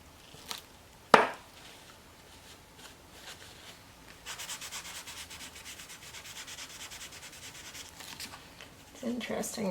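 An oil stick is rubbed off a journal page with soft, close, papery scrubbing strokes that come in a continuous run after a sharp tap, with talk in the background.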